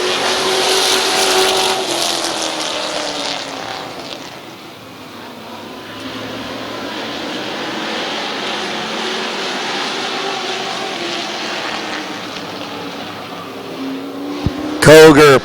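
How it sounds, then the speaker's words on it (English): Race cars on the Midvale Speedway oval start an eight-lap heat race, their engines roaring loudly as a pack, rising and falling as they pass, while an announcer talks over the noise. "Getting ready to go green, 8-lap heat race number 1, Koger and Pringle."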